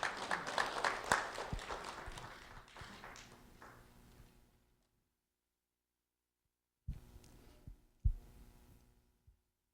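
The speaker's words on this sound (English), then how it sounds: "Round of applause for Domingo." An audience at a school recognition event claps for a fifth-grade student, a dense round of applause that fades out over about four seconds, then a pause and a few scattered, nearer claps and taps.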